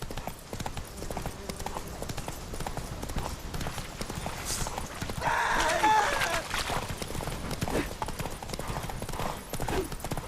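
Roach, the horse in The Witcher 3, galloping hard: fast, loud, close hoofbeats drumming throughout, with a brief louder burst of activity midway and background game sounds mixed in.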